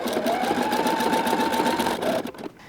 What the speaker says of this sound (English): as I turn this corner with my zigzag stitching